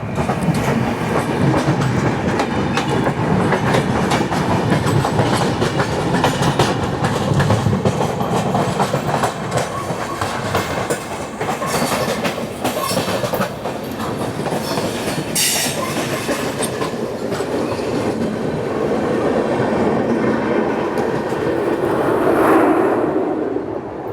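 Constant loud rumble and rattle of the Okha Bilaspur Express passing close by, with rhythmic wheel clatter and a faint squeal toward the end, continuous throughout.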